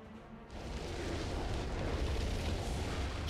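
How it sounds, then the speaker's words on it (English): Turret destroyed in League of Legends, a sudden deep rumbling explosion that swells in after a brief quiet lead-in and sustains as a heavy, loud boom with debris-like noise to the end. "Red Team's turret has been destroyed."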